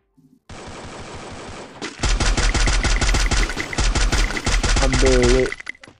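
Garena Free Fire gunfire, a rapid sustained automatic burst, loud and close, after a short lead-in, with a player speaking over it.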